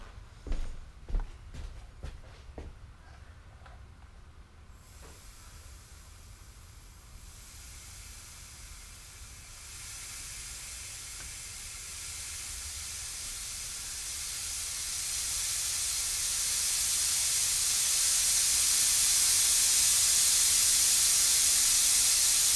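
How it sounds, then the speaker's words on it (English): Compressed air hisses from a leaking pneumatic valve fitting on a robot drummer animatronic, a broad steady hiss that grows gradually louder and brighter until it is loud and continuous, after a few faint knocks at the start. "Okay, so we have a major air leak."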